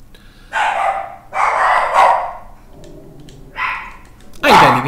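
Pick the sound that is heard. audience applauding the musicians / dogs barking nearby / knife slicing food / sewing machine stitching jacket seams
dogs barking nearby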